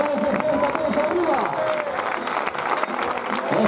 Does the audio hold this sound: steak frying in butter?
no